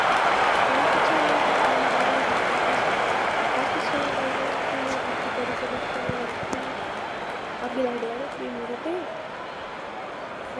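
Stadium crowd roaring in the Real Cricket 24 video game after a six in an India versus Australia match, a loud sustained broadband cheer that slowly eases, with a commentator's voice running over it.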